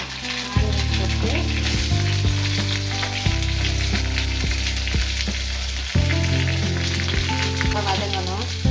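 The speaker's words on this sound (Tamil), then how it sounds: "எண்ணெய் காஞ்ச பிறகு கொஞ்சம் கடுகு பொரியுது." Mustard seeds and onion fry in hot oil for a Tamil-style prawn gravy, making a loud, steady, close sizzle with occasional stirring scrapes and pops.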